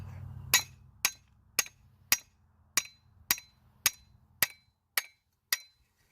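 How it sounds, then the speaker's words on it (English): A hammer pounds on a crescent wrench to loosen a bolt on an antique moldboard plow, ringing out ten sharp metallic strikes at a steady, roughly half-second rhythm, close and clear. "I'm going to do the unthinkable and pound on my crescent wrench."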